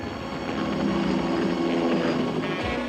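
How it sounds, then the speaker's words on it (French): A cartoon helicopter approaches as a steady, dense mechanical drone that holds at full level throughout, with a low rumble and no voices. "il y a un hélicoptère qui approche"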